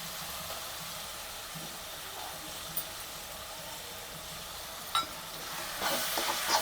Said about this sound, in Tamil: இப்போ நம்ம எடுத்து வச்சிருக்க இஞ்சி பூண்டு பேஸ்ட்டு நம்ம சேர்க்க போகிறோம்.